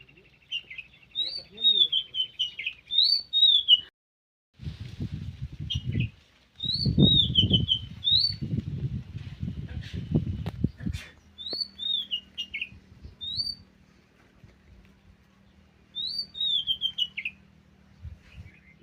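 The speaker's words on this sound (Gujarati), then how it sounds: "બુલબુલ આવ્યું જો." A bulbul sings in a village garden, repeating short sweet phrases in clear bursts throughout, with a stretch of louder rustling noise in the middle.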